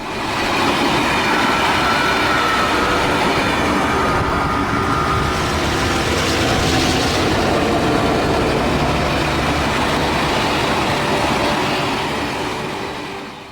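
Train hauled by South Australian Railways diesel locomotives in 1965, rolling steadily near Murray Bridge: a loud, continuous rumble of wheels on rails with a broad rushing roar that holds throughout, no voices.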